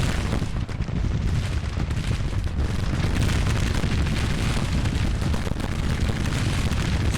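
Steady, dense booming of artillery fire in a Grand Tactician Civil War battle, a loud continuous rumble of overlapping cannon blasts with no pauses and no talking.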